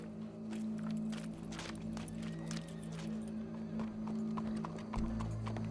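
Horse hooves clip-clop in Red Dead Redemption 2, a steady walking rhythm of distinct hoof strikes over a low droning game ambience, fairly quiet overall.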